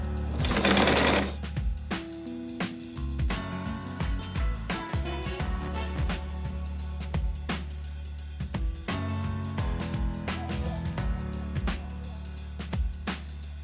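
A sewing machine stitching lastex elastic fabric, running in short bursts with rapid mechanical clatter and distinct clicks between runs, close and clear, opening with a brief loud rush of noise.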